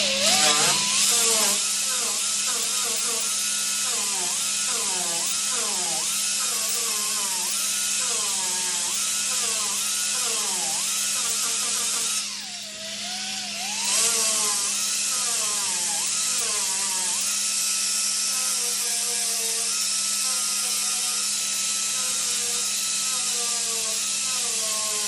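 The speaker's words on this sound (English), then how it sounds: "Don't want to grind too much, you cause heat and warpage." A pneumatic air grinder dresses metal bodywork on a 1981 Chevy Camaro in a cold shop, whining at a high pitch in repeated rising and falling passes, with a brief drop in the middle, loud and close throughout.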